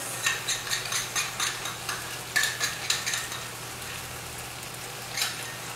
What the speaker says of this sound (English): Scrape all these edges.